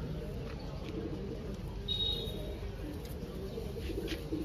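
Gola-line pigeons coo steadily in a Kolkata loft, a low, continuous murmur with one brief thin whistle partway through, and no talking.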